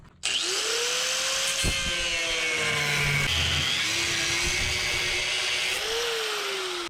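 A power tool grinds a groove along a crack in metal on a crawler loader, a continuous close, loud whine whose pitch dips and rises as it bites into the material throughout.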